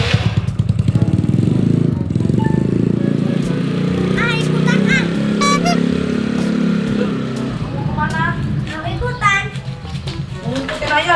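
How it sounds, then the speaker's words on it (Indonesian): An automatic scooter motorcycle engine runs with a steady low rumble throughout, while children talk and chatter loudly over it nearby. "Oh, ini mesin motor kak, mesin motor matic."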